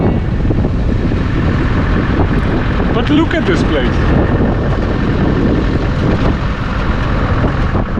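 Loud, steady road and wind noise inside a moving car, a constant low rumble filling the whole stretch, with someone talking over it.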